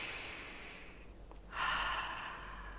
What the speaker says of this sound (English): take a moment so that we can take a deep breath together